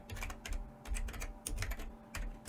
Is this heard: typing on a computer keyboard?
yes